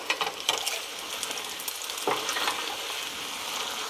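Egg foo young frying in cooking oil in a skillet, a steady close crackling sizzle with scattered sharp pops and a brief scraping clatter partway through, no voices.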